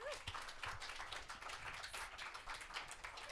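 An audience at a Right To Know I-522 rally held at a soul food venue applauds, a dense patter of many hands clapping steadily at moderate distance for a few seconds.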